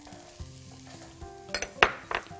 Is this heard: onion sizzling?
yes